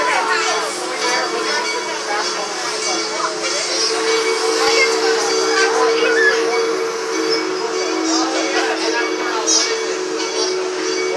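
Amusement park train ride circling Six Flags St Louis, a steady rolling rumble and hiss of the cars running continuously, with riders, including children, chattering over it throughout.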